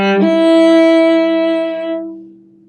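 A cello plays a phrase in third position, a single sustained bowed note with rich harmonics settling into a lower held tone that fades out, with no talking.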